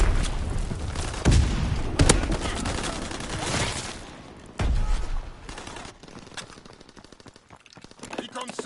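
Enemy bombs burst and guns fire in a war video game: sharp blasts land near 1.3, 2 and 4.6 seconds among rattling gunfire, then scattered lighter shots trail off as a voice speaks.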